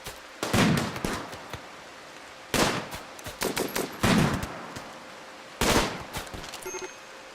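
Video game gunfire comes in three loud, rapid automatic bursts separated by short pauses, each a sharp clatter of many shots with brief single reports between.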